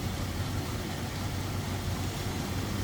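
A 1935 Pierce-Arrow Model 845 enclosed-drive limousine engine with a Stromberg carburetor idles steadily, heard up close from the exhaust manifold side as a low, even rumble with no talking.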